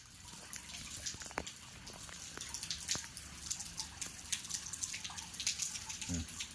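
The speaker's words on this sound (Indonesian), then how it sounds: "Ini hujan sudah mulai reda dan nanti sebentar lagi hujan akan turun lagi" Rain easing off outdoors, with scattered drips and splashes falling irregularly over a soft wet hiss, fairly faint and close by.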